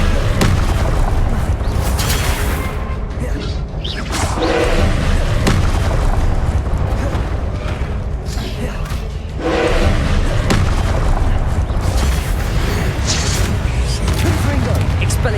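Spells fly in a Hogwarts Legacy battle: Confringo blasts, Expelliarmus disarms and Incendio fire bursts land as repeated heavy booms and thuds, dense and loud throughout, with voices mixed into the ongoing combat noise.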